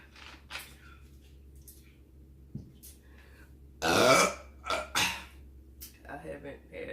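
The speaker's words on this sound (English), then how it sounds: "Let's see if it can give me a good burp" A loud, long burp after drinking Sprite during a wings-and-fries meal, followed by shorter belches and throaty noises, close up in a quiet room with a faint background hum.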